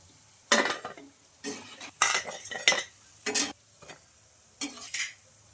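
Crisp fried semolina snacks lifted out of hot oil and moved onto a plate with a metal utensil, giving several short scraping, clinking bursts with brief sizzles between them, close and fairly quiet.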